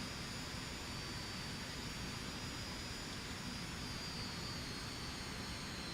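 Steady broadband roar of a light aircraft engine throttled back on a low landing approach over desert with full flaps, continuous and close with no talk.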